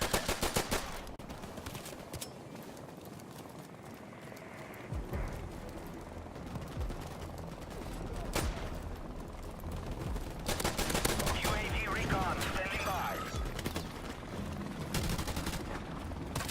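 Unsuppressed M1911 .45 pistol fire in Modern Warfare Remastered, loud sharp shots in irregular bursts over game ambience, with dense clusters of reports toward the end.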